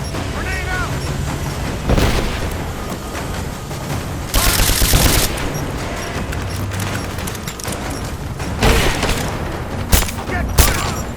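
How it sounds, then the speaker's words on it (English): Grenade blast and gunfire in Rise of the Tomb Raider on PS5: loud bursts of rifle and machine-gun fire and booming explosions crash in repeatedly across the scene, with shouted combat voices mixed in. "Throwing a grenade!"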